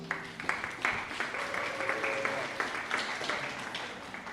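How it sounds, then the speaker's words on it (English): A crowd at a carnival press conference applauds Moxie Chevy, a sustained wash of clapping with a few louder bursts, with faint voices heard early on. "Another round of applause for Moxie Chevy."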